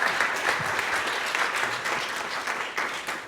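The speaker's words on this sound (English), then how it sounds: "Friends, please give a round of applause to David Shimotakahara." Audience applauding at a live stage event in Akron, sustained dense clapping from a crowd, loud and steady throughout with no voices.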